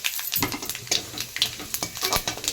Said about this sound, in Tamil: கொஞ்சம் ஆயில் விட்டு கடுகு சீரகம் காஞ்ச மிளகா ஒன்று ஒன்று போட்டிருக்கோம்